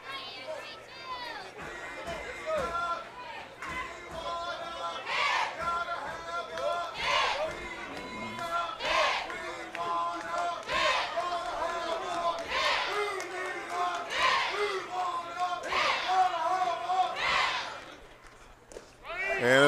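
Baseball crowd at a Grambling State vs Southern tournament game, a steady murmur of chatter and shouts with rhythmic bursts of chanting or cheering, heard at moderate distance, with voices mixed throughout.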